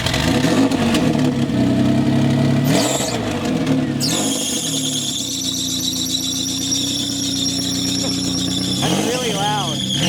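Nissan 350z with a custom top-mount turbo idling and revving, loud and close, with a high squeal of a tight belt or turbo whine rising and falling over the engine drone.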